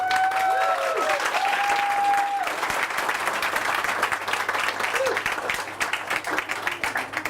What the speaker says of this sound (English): put your hands together and join me in welcoming our first speaker for the evening